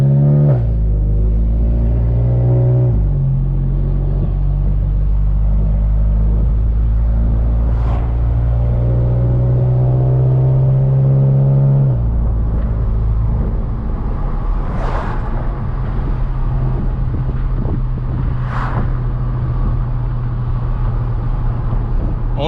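A turbocharged MK7 Volkswagen GTI fitted with a Mamba GTX3071R hybrid turbo with a billet wheel accelerates under low boost, a loud, steady in-cabin engine drone that rises and then shifts, with a few brief sharper sounds over the rumble.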